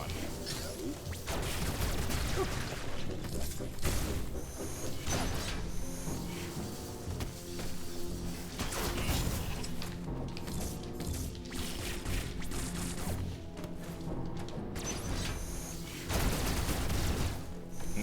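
Blocks being destroyed in Metroid Dread, with dense rapid bursts of blasting and crashing impacts repeating throughout, loud and continuous under game music.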